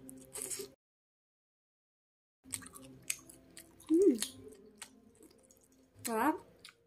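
Someone eating a cheese spring roll with ketchup, with close, soft chewing and wet biting sounds in short bursts. A brief pause of near silence comes between them, and a voice is heard at moments.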